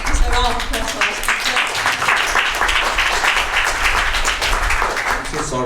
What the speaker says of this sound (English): It's a round of applause for us.